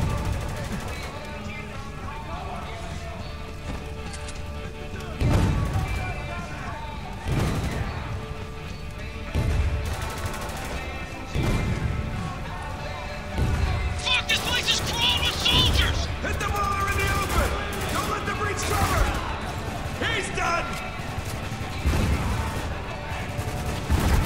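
Gunfire and grenade explosions in Spec Ops: The Line: scattered bursts of shooting and heavy booms over a constant dense battle din, with a voice talking over the combat.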